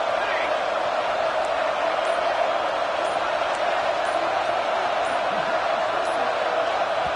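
Steady roar of a stadium crowd in an NCAA 26 college football video game, a continuous wash of cheering noise holding at an even level throughout with no one talking over it.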